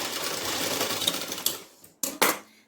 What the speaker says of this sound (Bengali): এইবার ধরে এটা সেলাই করে নিলাম।